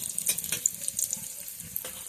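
Cut potatoes fry in oil left over from frying onions, a soft sizzle under several sharp spatter pops and brief scraping clicks, fairly quiet and close.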